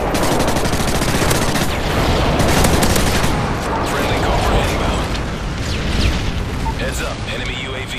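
Dense, continuous gunfire and booming explosions from a Modern Warfare 3 multiplayer match, loud and sustained throughout with rapid bursts and rumbling blasts, in-game voice callouts mixed in.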